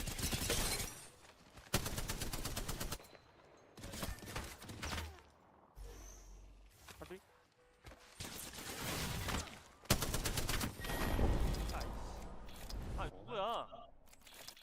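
Bursts of light machine gun fire from a Spitfire weapon in a shooter game crack out in loud, separated volleys, mixed with thuds and impacts while players talk over them.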